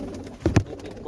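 Pigeons at a loft where border pigeons are kept, a short near double coo, two low throaty pulses in quick succession against quiet background.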